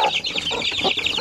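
Two-week-old chicks peeping, a rapid chorus of high, shrill chirps close by with no talk.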